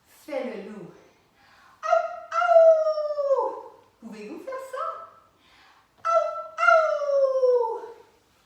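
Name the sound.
voice imitating a wolf howl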